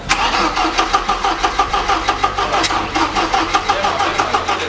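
A car engine cranks with a rhythmic, loud starter whir of repeated pulses, then catches into a steady low idle rumble, heard close up with no talk.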